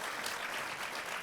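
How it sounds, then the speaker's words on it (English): Steady applause from a radio-show audience for a ballot-proposition panel, dense and continuous clapping that holds at an even level throughout. "some applause for our panel."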